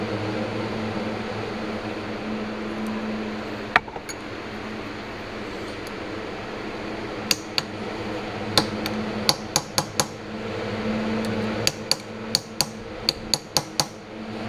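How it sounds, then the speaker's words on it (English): A hammer taps aluminum on a 1966 Ford Galaxie 500 convertible vent window part, giving sharp, close metallic strikes, first scattered, then in quick clusters, over a steady hum of shop fans or machinery. "I'm tapping the aluminum back into that where it's hogged out enough to where it might work."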